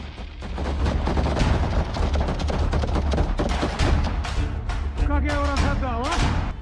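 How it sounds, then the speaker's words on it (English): Soldiers fire in combat: dense, rapid bursts of close gunfire crackle continuously, with sharp repeated shots and a few tonal whines near the end. "Turning the corner, an AFU soldier notices movement and opens fire."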